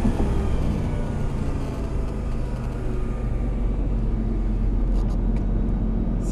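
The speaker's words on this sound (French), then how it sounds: "Et on rétrograde. On reste sur le frein." A Lamborghini Superleggera downshifts and brakes, its engine rumbling loud and steady with shifting pitch, a few sharp blips near the end as the revs fall.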